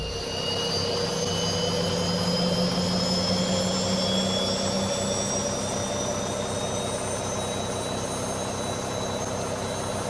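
Simulated Boeing 737-800 jet engine number two spooling up and running in X-Plane 11, a steady, loud turbine roar with whining high tones that slowly rise in pitch, continuous and without talk.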